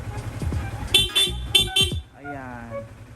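A stock horn on a Sniper 155 motorcycle gives several short honks in quick succession, close and fairly loud, followed by someone talking.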